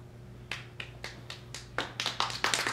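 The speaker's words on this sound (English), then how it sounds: "Double claps" A person claps their hands in a quick series of sharp, close claps, starting as single claps and turning into rapid double claps, with no speech.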